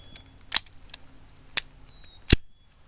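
A Taurus Spectrum .380 ACP pistol firing three sharp, sudden shots, spaced about a second apart and heard from a distance, with quiet gaps between them.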